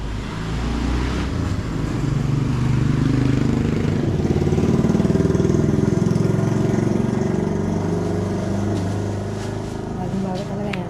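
A tricycle's motor running at a gate, a steady, loud engine drone that holds throughout, while people talk nearby.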